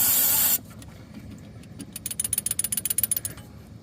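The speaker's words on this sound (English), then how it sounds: "Been spraying all my connections." Aerosol brake cleaner sprayed onto hydraulic line connections on a backhoe: a loud, steady hiss for about half a second, followed by a run of quick rhythmic mechanical clicks, like a pump trigger or ratchet.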